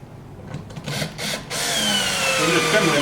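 A battery-powered driver spins up after a few light clicks and handling noises, whirring steadily and loud at close range as it drives a screw into a cabinet during assembly.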